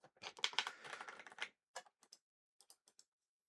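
Quick typing on a computer keyboard, a close flurry of light key clicks that slows into a few separate taps, then stops.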